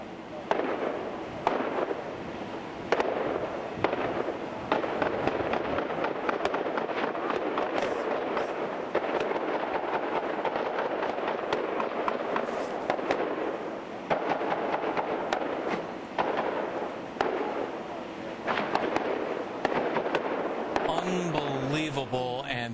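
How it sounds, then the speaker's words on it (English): Rapid bursts of gunfire crackle continuously during a deadly shooting in Pittsburgh, dense overlapping pops and bangs with echoes, loud and sustained over a steady noisy background. "This is gunfire."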